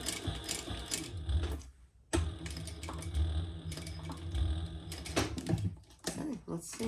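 A sewing machine stitches and backstitches a bag in quick mechanical bursts, pausing briefly around the two-second mark before running again, with a voice talking faintly over it.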